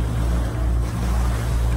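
A large boat on the Tagus river at Lisbon, a loud continuous low engine drone with a steady hum and wash of wind and water, close and unbroken throughout.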